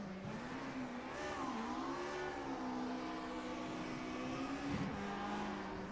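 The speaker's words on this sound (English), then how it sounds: "Listen to that purring engine." A race car engine drones steadily at high revs, its pitch wavering and dipping briefly before climbing back, loud and close throughout.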